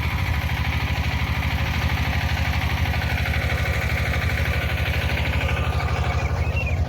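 A six-cylinder mini tractor engine runs close by, with a loud, steady low-pitched thrum and an even, rapid pulsing beat held throughout.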